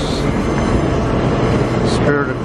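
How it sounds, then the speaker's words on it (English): A Brisbane suburban train pulls in toward a platform, its steady broadband rumble and hiss holding at constant loudness throughout, with a brief higher whine near the end and faint voices in the background. "The suburban train is approaching."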